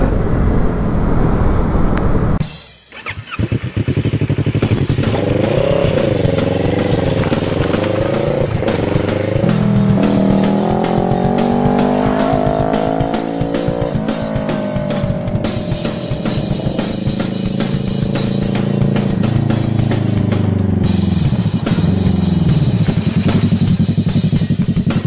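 A 2006 Honda VFR 800 VTEC motorcycle fires up and rides off, the engine loud and close, revving and climbing through the gears with repeated pitch sweeps and shifts over continuous road and wind noise.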